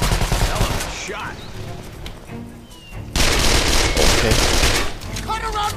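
Gunfire erupts in Call of Juarez The Cartel: dense bursts of shots, heaviest in the final seconds, mixed with a game soundtrack and some voices.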